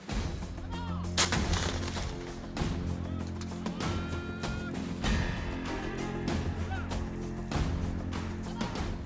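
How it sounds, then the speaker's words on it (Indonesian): Rapid series of loud booming blasts from marine rocket artillery launching rockets in a volley, one after another, with rumbling echoes between them. "Roket jenis vampir dan Grand ini mampu menjangkau sasaran hingga 20 km."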